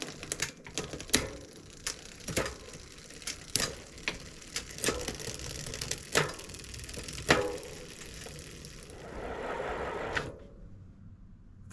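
A Campagnolo 7-speed index shifter on a Carrera Battaglin team bike clicks through its gears, giving a series of sharp, separate mechanical clicks at irregular intervals, close and fairly quiet, with no talk.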